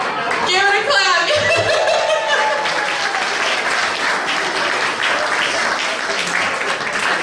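A crowd claps steadily for several seconds at a Rotary Club Halloween-themed event, dense and loud applause with a little laughter and chatter mixed in.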